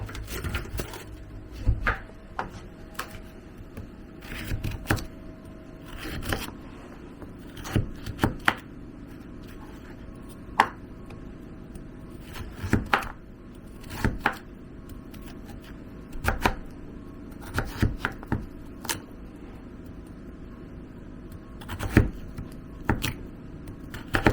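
Rutabagas being chopped with a knife on a cutting board during home canning prep, giving sharp irregular chops in short bursts, close and distinct against a quiet kitchen background.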